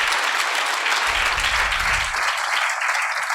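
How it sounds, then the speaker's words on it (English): Conference audience applauding the speakers at a Perl conference in Riga, dense steady clapping from a room full of people for a few seconds. "If you can applaud for them."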